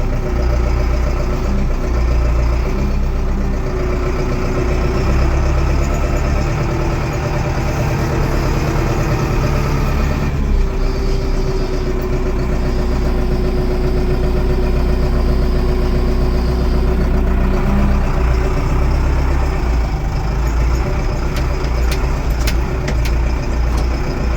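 A Scout 110 tractor's diesel engine idles steadily and loudly up close after refuelling, a constant low rumble holding for the whole stretch with no speech.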